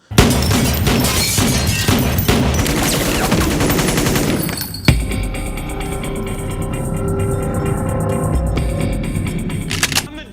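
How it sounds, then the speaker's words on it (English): Dense gunfire from a Michael Bay movie gun battle, loud and continuous rapid shots, then a sharp crack before a second burst of rattling fire and metallic clatter. "But sometimes gun battles can be rather thrilling."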